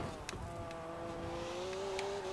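A BMW 1 Series M Coupe 2011 in Forza Horizon 4 revs steadily while drifting, a sustained engine drone with rising pitch, faint and distant, with brief tire or impact noises.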